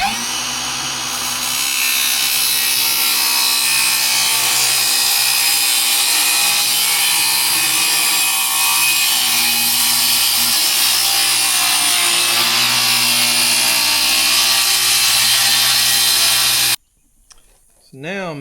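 A power saw cuts notches into a Milwaukee Packout center console. It makes a loud, continuous, harsh buzz that lasts for about sixteen seconds, then stops abruptly and leaves faint room noise.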